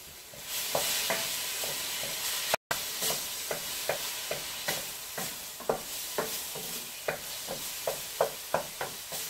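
Cheddar and asadero cheese stirred into breakfast burrito filling in a big pan, a spoon scraping in a steady rhythm of close, light clicks over a soft, constant sizzle.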